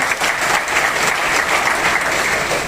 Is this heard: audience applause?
yes